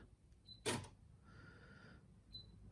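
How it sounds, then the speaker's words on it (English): A sharp mechanical clack as the Acufeed feed mechanism of a Janome M7 sewing machine engages, then a steady faint whirring hum for under a second, with small clicks before and after in a quiet room. "There's actually a part of the machine that is engaging when we turn on that feature"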